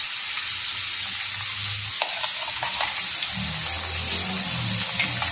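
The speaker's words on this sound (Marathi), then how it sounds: "तेल गरम असल्यामुळे जरा सांभाळूनच टाकायचं त्याच्यामध्ये" Fish fried Ahmednagar style on a tawa sizzles steadily in hot oil, a loud continuous crackle joined by stirring or scraping and a few low clunks of utensils, with no talking.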